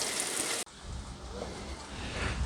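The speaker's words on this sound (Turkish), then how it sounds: "Şiddetli bir yağmurda mahsur kaldık." Heavy rain near Rafyofar Cove family beach in Finike, Antalya, as a steady broadband downpour pattering loudly on surfaces, with a brief dropout partway through before the close, dense hiss returns and builds.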